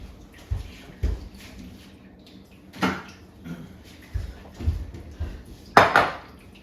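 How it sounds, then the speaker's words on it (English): Pemmican ingredients, including beef, are stirred together in a bowl, making scattered clinks and scrapes of utensil against dish with soft knocks, close and intermittent. "So I am going to now mix my 2 ingredients."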